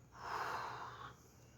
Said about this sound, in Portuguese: E solta a respiração também em 3 segundos.